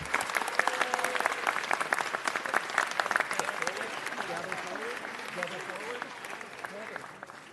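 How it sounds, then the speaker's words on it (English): Crowd applause rises at a Los Angeles city council meeting, with dense steady clapping and scattered voices mixed in, fairly distant and easing slightly toward the end. "Big round of applause for all of these wonderful individuals for making this happen."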